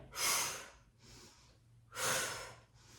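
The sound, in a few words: breathing exhale and inhale during Pilates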